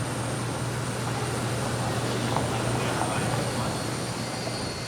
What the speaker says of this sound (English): Britannia flight BY006 to Mahon is finally preparing to get underway.